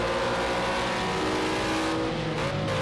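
Group C race cars in Project Cars 2 at Catalunya, with loud, dense engine roar and revving pitch that climbs and shifts as the cars accelerate out of a corner. The roar is close and continuous, with no talk over it.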